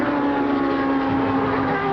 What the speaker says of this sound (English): Going around the Lamborghini engine car now, 2 12-cylinders, and I must say these Lamborghini engines sound